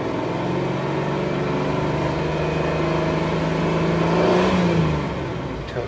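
A 1983 Cadillac Seville engine running at idle and then revved, a steady close hum whose pitch climbs and swells before settling back down.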